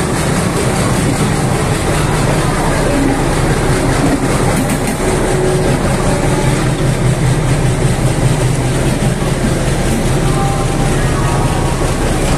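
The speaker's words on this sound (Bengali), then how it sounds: "বন্ধুরা, এই যে আমাদের কোচ, আমাদের ট্রেন এসে গেছে।" A train pulls into a busy platform at Howrah station, a loud, continuous rumble of rolling wagons with faint rhythmic clatter throughout, heard close by.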